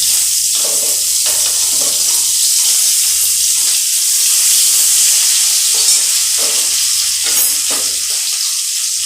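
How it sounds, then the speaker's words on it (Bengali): Onion and tomato fry in hot spiced oil with dried and green chillies for a Bengali pabda fish curry, a steady loud sizzle with intermittent stirring scrapes and no talking. "দিয়ে ফোড়নটাকে লাল লাল করে ভেজে নেব।"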